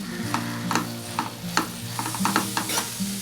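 A spatula stirs and scrapes a banana flower stir-fry mixed with grated coconut in a pan, making repeated scraping strokes over a light background sizzle with a steady tone humming underneath.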